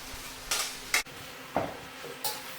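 Beef, onions, shiitake mushrooms and garlic tipped back into a hot pan for beef chow mein, four separate clattering knocks of utensil against pan with a faint sizzle beneath, no talking.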